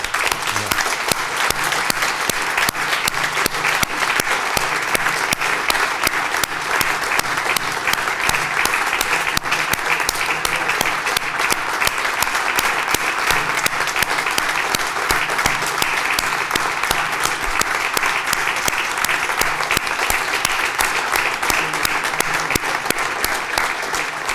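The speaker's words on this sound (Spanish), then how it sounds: "pido un fuerte y caluroso aplauso" Loud, sustained applause from an audience at a book presentation in Mexico, welcoming an honored guest; a thick, continuous wash of clapping that holds steady for over twenty seconds without letting up.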